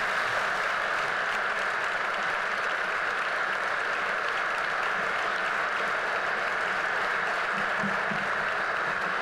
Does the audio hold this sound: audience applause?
yes